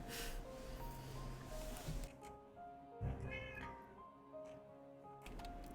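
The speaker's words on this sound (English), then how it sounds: "How did the cat meow sound in the voice mod?" Cat meows passed through a voice modifier during a Final Fantasy XIV Endwalker playthrough, heard as a few warbling, pitch-shifted cries over a busy game background.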